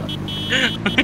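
A car horn in a stealth video game honks in short repeated bursts, loud and close, mixed with engine noise and a voice laughing.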